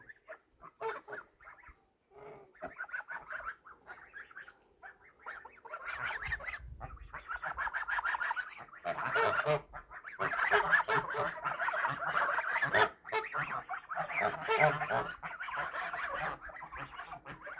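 A flock of geese honks continuously nearby, calls overlapping and growing louder and busier partway through, with rustling and low rumbling underneath.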